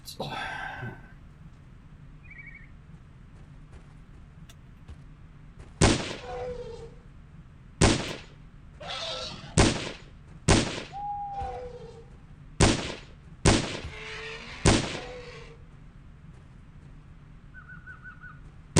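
Sharp M14 rifle shots in the game Trespasser, about eight loud reports spaced a second or two apart, with other game sounds and brief tones between them.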